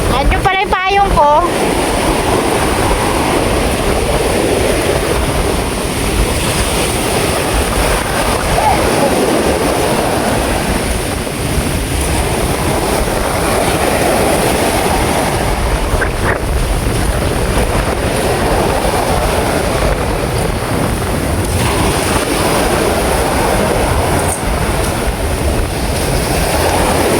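Large ocean waves crash and surge in a continuous loud roar as the sea churns offshore. The rumble stays steady, and wind adds to it throughout.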